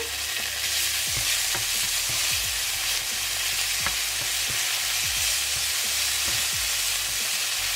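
Garlic sizzling in a hot frying pan, a dense steady hiss with a run of low knocks and scrapes from stirring, close and loud, no speech.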